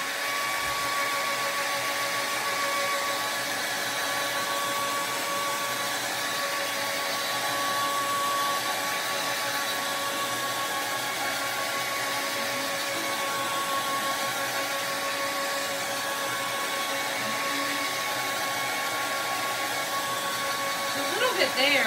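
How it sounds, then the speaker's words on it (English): A steady, continuous whir of a blow dryer runs throughout, fairly loud and unchanging, with a faint voice now and then underneath. "Oh, blow dryer. I do have a blow dryer."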